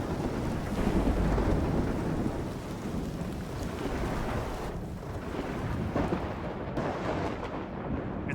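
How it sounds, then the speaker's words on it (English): Thunder rumbles and rain pours in the video game Indiana Jones and the Great Circle, forming a dense, continuous wash of storm noise that swells early and stays steady throughout, with no voices. "I'm hearing thunder on one side and then rain on the other."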